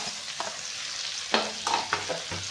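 Masala, tomato and roasted green chillies stir-frying in a pan for a lemon-chilli bitter gourd dish: a soft continuous sizzle broken by a few quick spatula scrapes, close up.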